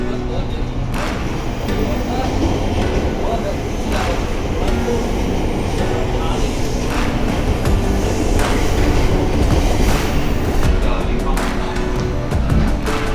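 A Jakarta commuter train departing during the morning rush rumbles and clatters steadily on the rails, loud and close, while a recorded Indonesian announcement plays over the noise.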